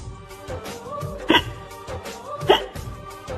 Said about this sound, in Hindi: हिचकी क्यों आ रही है?